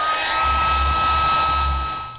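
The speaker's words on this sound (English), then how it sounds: "I'm just going to give it a quick dry of the old hairdryer now." A hair dryer blows steadily at close range into a rusty fuel tank, a continuous whooshing whine with a low motor hum, running without pause and no voices.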